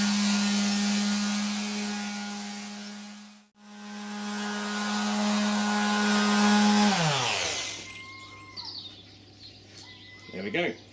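A power sander with 180 grit sandpaper works rough wood for a steampunk-style desk, giving a steady motor whine that dips once, then spins down near the end and gives way to clatter and handling noise.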